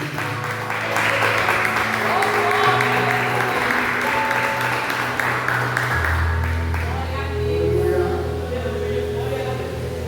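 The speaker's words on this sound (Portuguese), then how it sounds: "Palmas para Jesus." A church congregation claps and applauds during a worship service, sustained dense clapping with sustained organ or keyboard tones beneath and some voices mixed in.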